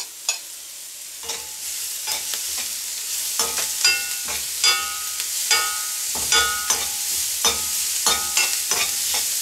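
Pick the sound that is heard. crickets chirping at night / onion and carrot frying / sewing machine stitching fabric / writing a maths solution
onion and carrot frying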